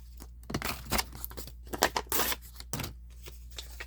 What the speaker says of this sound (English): Now we're going to repeat the process with the coin at an angle and the sandpaper like this.